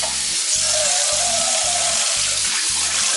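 Cold water runs from a kitchen tap into a small bowl in a steady, loud rushing stream, with a low rhythmic thumping pulsing underneath.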